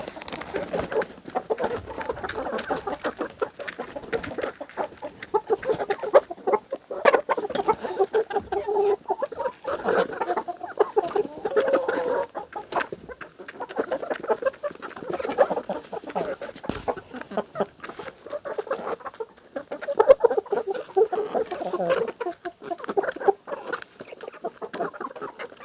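Pet chickens cluck steadily and busily at close range for the whole stretch, a dense, continuous chorus of overlapping clucks and soft calls with no talking.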